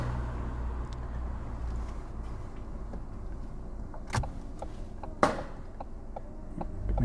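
A car engine runs with light gas as a learner driver moves off at junctions, giving a steady low drone with a couple of brief clicks and knocks inside the cabin.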